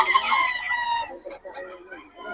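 Young stag rooster crowing at a bustling Bocaue flea market, one loud close crow in the first second followed by scattered clucks and faint market chatter.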